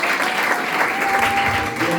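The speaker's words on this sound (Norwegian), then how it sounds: "Og vi klapper for Jesus." A church congregation in Oslo claps steadily and loudly for about two seconds, a dense wash of hands filling an indoor hall.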